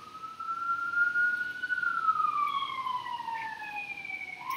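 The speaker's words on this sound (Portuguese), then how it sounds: "Passa uma ambulância e a gente não tem como cortar." An ambulance siren wails as the vehicle passes on a city street, its tone sliding steadily and then dropping in pitch as it moves away, fairly distant under steady traffic rumble.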